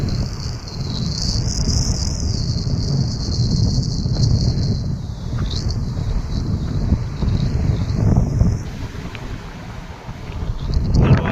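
Strong wind buffets and rumbles across the microphone in gusts at a seaside cliff above the sea, with a constant high insect chirring running underneath.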